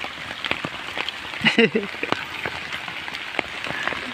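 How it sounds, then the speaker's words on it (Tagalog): Rain falling at an outdoor fishing spot, a soft steady patter of drops with scattered louder taps, and a brief voice in the middle. "talaga lagi na lang naulan"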